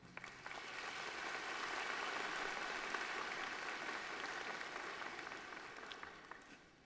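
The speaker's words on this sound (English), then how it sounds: "Please give a round of applause to our faculty." High school graduation audience in Pitt County applauding the faculty, a dense, moderately distant wash of clapping that swells, holds for several seconds and then fades.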